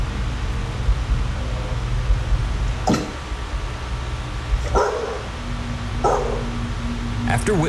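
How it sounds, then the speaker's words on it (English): A dog barks a few times in short, spaced bursts under ongoing talk and background noise, with whimpering yips between barks. "the dog barking at something that ain't there"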